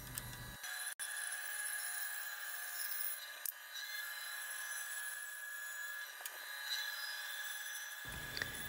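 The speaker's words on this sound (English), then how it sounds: "I'm going over to my bandsaw because it's quick and efficient" Bandsaw in a home woodshop cutting wooden boards into bed legs, a steady close whine and rasp of the blade through the wood that holds for several seconds between short pauses.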